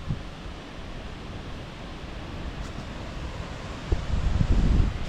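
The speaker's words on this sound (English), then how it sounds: "the windstorm's kicking up. It's pretty much steady winds, and then some pretty significant gusts as well." Windstorm outdoors near water, a steady broadband rush of wind buffeting the microphone, building into a stronger, louder gust toward the end; no speech.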